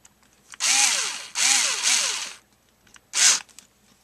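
A cordless power drill driving screws into a small engine carburetor, heard in three close, loud whirring bursts with pitch sweeps as the clutch engages. A short final burst follows after a pause.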